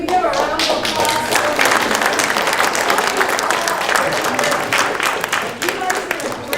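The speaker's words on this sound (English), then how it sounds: "Can we give a round of applause?" Enthusiastic applause from an audience at an elementary school event, loud and steady clapping throughout with some scattered voices and cheers mixed in.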